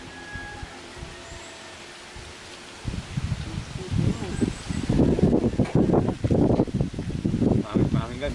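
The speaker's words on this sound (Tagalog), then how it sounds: "Mahangin guys, mahangin." Wind gusts rustle and buffet the microphone beside a stream while fishing, growing stronger after a few seconds; people talk over it.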